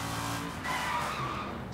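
A car in the video game Sleeping Dogs brakes hard and skids, a steady tire screech over engine noise lasting under two seconds, fairly loud and without speech.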